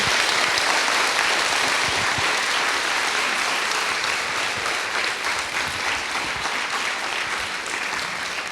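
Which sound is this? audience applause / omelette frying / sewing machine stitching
audience applause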